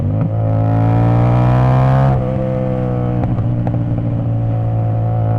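A CFMOTO 450SS motorcycle with a flashed ECU tune holds a loud, steady high-rpm rev, drops slightly in pitch, and then sustains the drone while a few faint exhaust pops crackle over it.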